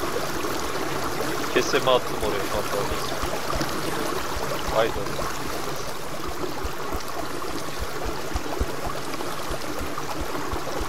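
Steady rushing water from a waterfall in the video game Reign of Kings pours in the background while people chat casually over it.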